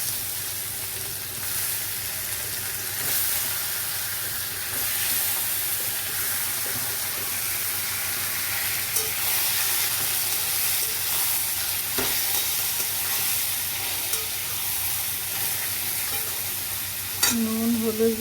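Lotte fish and a spice paste ground on a grinding stone fry in a wok, with a loud, continuous hissing sizzle and occasional stirring knocks, ending in a sharper scrape.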